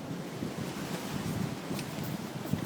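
Wind gusting over beach dunes at Brétignolle-sur-Mer, a constant rough rumble and hiss of air buffeting the microphone, with surf-like noise underneath and no voices.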